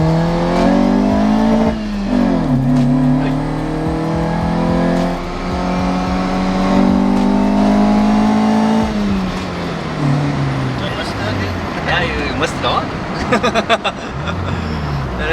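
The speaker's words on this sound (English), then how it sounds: "we took the car for a drive." A car engine revs and accelerates close by, pitch sweeping up and down through gear changes, loud and continuous throughout.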